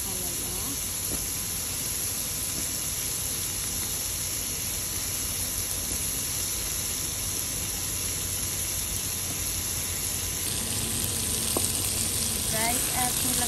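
Bitter gourd dropped into hot oil that had been used to fry fish, for Filipino pinakbet: a continuous loud sizzle and hiss with a brief surge of frying partway through.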